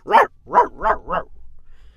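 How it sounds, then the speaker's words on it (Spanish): A dog barks four times, rough and hoarse, the first bark a little apart from the quicker three that follow, close by with no other sounds. "el perro se despertó, lanzando un ronco ladrido"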